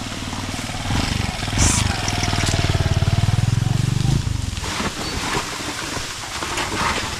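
A motorcycle engine rumbles nearby on a rural road, a throbbing putter that holds steady for a few seconds and then cuts off abruptly, leaving outdoor ambience behind.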